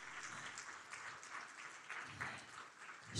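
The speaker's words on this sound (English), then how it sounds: "Give her a round of applause." A faculty gathering audience at a university institute day applauds steadily, a soft, distant wash of many hands clapping that swells slightly toward the end.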